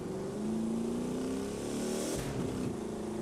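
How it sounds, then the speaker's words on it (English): The Tkachenko Ice Hunter truck in the video game The Crew 2 revs up with a rising, throaty whine, swelling and dipping as the throttle is pushed, steady and close with no talking. "Let's rev it up here a little bit and listen to it."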